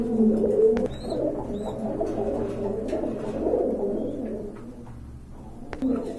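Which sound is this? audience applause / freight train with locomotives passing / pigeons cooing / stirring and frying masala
pigeons cooing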